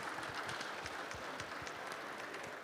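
Conference audience at a climate policy dialogue clapping in steady, dense applause, moderately distant, continuous for the whole stretch.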